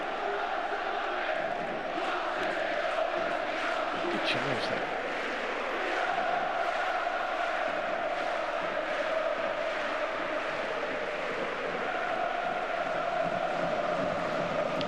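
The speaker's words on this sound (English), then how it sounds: "they're getting the crowd going" A football stadium crowd of around 53,000 roars and chants steadily during a Champions League match between Arsenal and Athletic Club, a distant, continuous rumble of voices with a commentator talking over it throughout.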